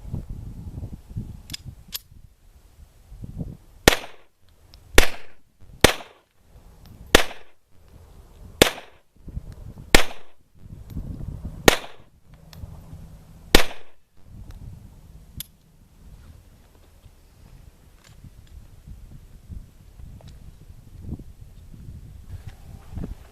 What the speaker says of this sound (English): Time for our second shoot with the M1903 Colt Pocket Hammerless. 8 more rounds at 32 ACP